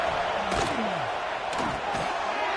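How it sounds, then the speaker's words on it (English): A stadium crowd at a football game roars in a loud, dense wash of cheering and yelling, with sharp bursts and whistles rising above the din throughout. "Listen to the crowd energy here in the early going."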